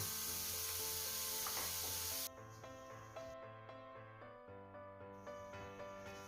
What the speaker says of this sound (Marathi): त्यात 3 बारीक चिरलेले कांदे छान परतून घ्यायचे.